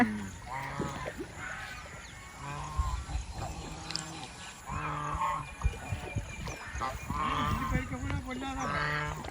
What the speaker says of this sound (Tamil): இந்த வாத்துக்கு என்னும் ஒரு பேர் இருக்குது பங்களா வாத்து என்று சொல்லியும் அழைப்பார்கள்